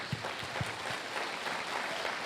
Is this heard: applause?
yes